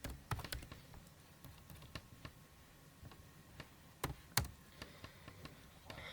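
Keys clatter on a computer keyboard as someone types C code, with quick irregular taps and a few sharper, louder strokes, heard close up and on their own.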